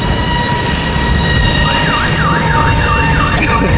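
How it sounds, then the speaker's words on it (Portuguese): A car alarm wails out on a street, a loud, close electronic siren sweeping up and down in a repeating wavering pattern over steady traffic-like background noise. "Disparou o alarme do carro."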